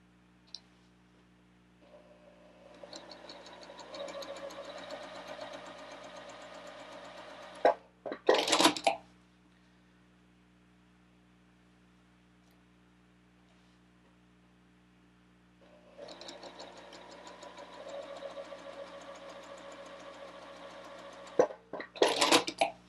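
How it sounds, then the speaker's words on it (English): Sewing machine stitching a quilt block, two steady runs of mechanical whirring several seconds long, each ending in sharp close clicks and clatter, with quiet gaps between. "I'm going to stitch about a thread or two away from that line"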